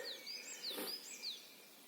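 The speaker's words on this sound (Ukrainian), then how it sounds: "Пташок послухати." Several birds chirp and sing in a forest during mushroom season, clear repeated high whistled calls near and far over a quiet background, with no talking.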